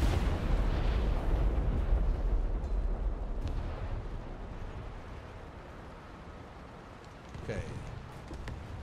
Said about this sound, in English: Oh, okay, that's a bomb.